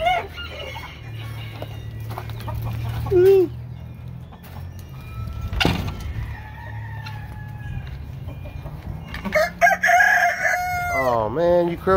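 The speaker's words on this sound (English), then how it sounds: "Oh man, you crow now?" Backyard chickens in a small flock, with a rooster crowing several times, rising drawn-out calls including a loud one near the end, over low hum and occasional clucks.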